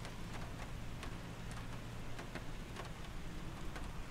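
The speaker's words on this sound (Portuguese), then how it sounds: "Dia 14 de junho, está chovendo no estado do Paraná." Simulated rain falls in Microsoft Flight Simulator 2020, a faint, steady hiss dotted with soft droplet ticks, heard alone without speech.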